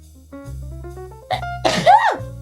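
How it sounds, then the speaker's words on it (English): A single sneeze bursts out after soft sustained tones, close and fairly loud, followed by a brief breathy trail. "I'm going to sneeze."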